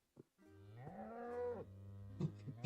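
A single cow gives a drawn-out, low moo that rises and then breaks off, followed by a few short grunting sounds, close and clear with no talk.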